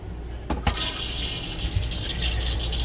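An RV toilet flushes with a steady rush of water filling the bowl, starting with a couple of sharp knocks near the start and continuing as a broad, even gush throughout.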